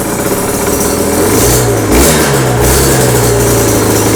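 A 2011 Aprilia RS125 two-stroke motorcycle revving during warm-up, loud and close, with a steady raspy engine drone and a short burst of higher revs midway.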